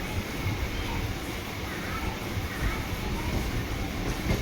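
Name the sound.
Chennai suburban EMU train ride at midnight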